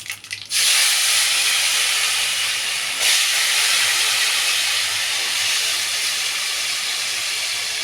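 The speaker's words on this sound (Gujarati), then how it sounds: "તો આપણે પહેલાં બટેકાનો વઘાર દઈ દેવાનો છે" Potatoes hit hot oil tempered with cumin, asafoetida and turmeric and give off a loud, steady hiss that bursts in suddenly and then holds, swelling briefly once midway before it settles again.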